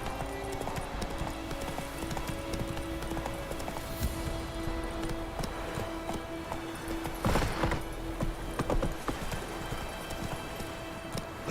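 A horse gallops in The Witcher 3, rapid rhythmic hoofbeats clopping steadily at close range over faint background game ambience, with a brief louder burst midway.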